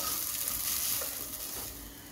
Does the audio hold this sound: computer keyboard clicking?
no